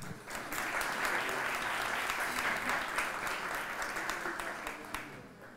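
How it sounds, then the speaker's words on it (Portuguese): An audience at a Pint of Science talk claps to welcome a professor on stage, with sustained, even applause that rises quickly, holds, and fades gently, heard at a modest, somewhat distant level. "Senhoras e senhores, uma salva de palmas para a professora Brenda Paula Figueiredo de Almeida Gomes."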